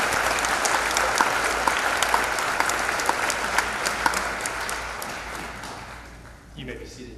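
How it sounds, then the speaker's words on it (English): A banquet audience at a chamber of commerce annual awards dinner gives volunteers steady, full-room applause with crisp individual claps. The clapping fades out near the end, and a voice follows. "let's please give them a round of applause for all that they do"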